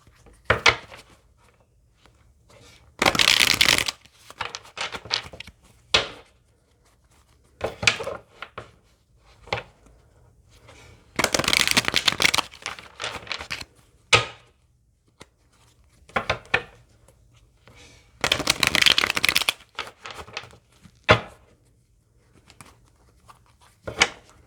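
Tarot cards are handled and shuffled, with bursts of riffling and crisp papery flicks separated by quiet gaps and scattered light taps and thuds, all close and alone.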